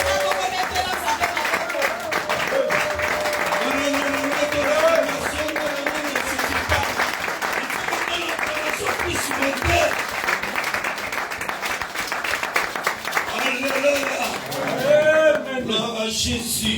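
A church congregation claps and cheers without a break during a sermon in praise of God, with a loud, steady roar of applause and a voice speaking over it throughout.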